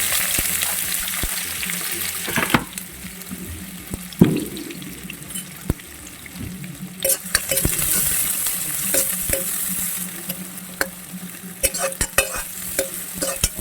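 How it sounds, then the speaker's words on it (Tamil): Onions and whole spices sauté in hot oil in a pan for a chenna masala, a steady broad sizzle with scattered clicks and scrapes of stirring running throughout, close and continuous with no talking. "வந்து நல்லா வதக்கி கொடுக்கணுங்க."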